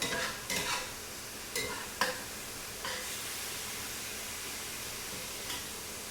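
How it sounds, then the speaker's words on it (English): Meat for carne guisada sautés almost dry in a pan: a continuous hissing sizzle, broken by several stirring scrapes and clinks, close and with no voices. "But this is almost dry cooking here. This is sauteing."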